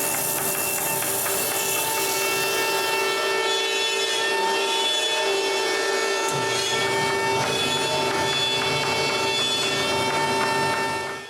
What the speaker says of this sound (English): When I'm done, I sand everything and apply a coat of beeswax.